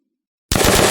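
An automatic weapon in an Unreal Engine zombie shooter game fires in a rapid burst that starts abruptly after half a second of silence, loud and close, with tightly spaced shots.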